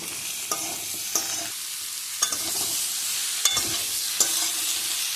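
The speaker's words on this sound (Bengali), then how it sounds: "এই যে চিচিঙ্গা কেটে ধুয়ে রেখেছি, সেটা দিয়ে দিলাম। 2 মিনিটের মতো কষিয়ে নেব।" Cut snake gourd sautés in a pan with a constant bright sizzle. Spatula strokes scrape through it about once a second, close and clear.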